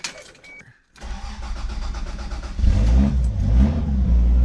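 A Toyota Supra with a turbo 7M engine and an upgraded CT26 turbo cranks and catches, then settles into a loud, close, rough running note that swells as the revs rise.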